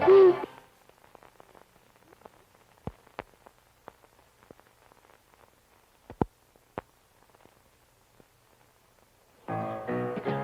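An owl hoots in a 16mm anti-pollution film, a short hoot at the start, then a quiet stretch of old film crackle and sharp pops before fuller sound returns at the end.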